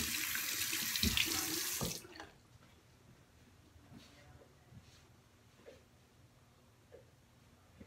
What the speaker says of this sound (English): I'm gonna wash my hair.